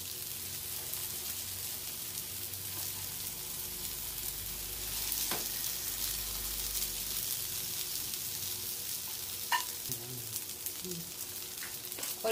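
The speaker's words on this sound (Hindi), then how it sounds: "ये आलू की टिक्कियां बनाई थी इसे हम सैलो फ्राई करेंगे।" Potato tikkis shallow frying in oil, a steady faint sizzle running throughout with a few soft clicks and pops from the pan.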